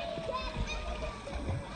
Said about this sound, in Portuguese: A molecada brincando na água, o Rianzinho lá longe.